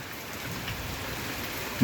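A downpour drums on a village setting in a brief, close, steady wash of dense raindrops, loud and even without any talking.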